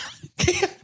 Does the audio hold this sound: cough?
yes